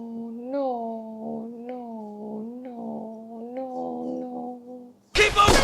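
A cat in the Band of Brothers episode "Carentan" gives a drawn-out, wavering yowl lasting about five seconds, rising and falling in pitch, cut off by a brief, loud burst of noise.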